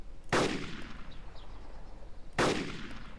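Two sharp, loud sniper rifle gunshots from the video game DayZ Epoch, about two seconds apart, each trailing off in a brief echoing decay.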